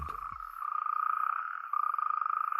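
Natterjack toads call at night in the breeding season, a loud, sustained rapid rattling trill close by, steady and pulsing with a brief break before it resumes.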